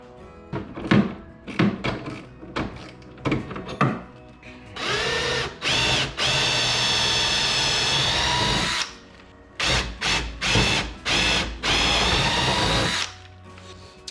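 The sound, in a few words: drill drilling holes for jon boat steering install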